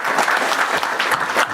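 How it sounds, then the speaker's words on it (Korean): Brief, dense applause from attendees at a cabinet meeting, a close burst of many hands clapping together for under two seconds. "잘했다고 박수 쳐주신 거죠?"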